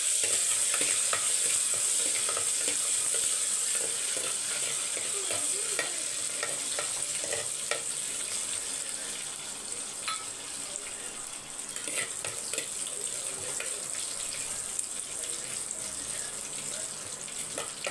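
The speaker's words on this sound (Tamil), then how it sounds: "பூண்டு வந்து நல்லா கொஞ்சம் வதக்கிக்கோங்க." Crushed garlic and curry leaves fry in hot oil with a loud, continuous, close sizzle, overlaid by scraping and clicking as they are stirred throughout. No voices.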